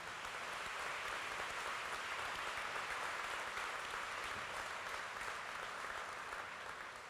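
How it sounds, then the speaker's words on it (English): Sustained applause from a crowd at a college commencement ceremony, dense steady clapping filling the room at even volume throughout. "Let's give them a round of applause."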